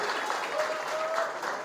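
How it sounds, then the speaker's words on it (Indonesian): Audience at a public speaking seminar in a vocational high school claps for a student speaker, with brisk, dense applause throughout and a voice talking over it. "dan tepuk tangan buat kakak kita."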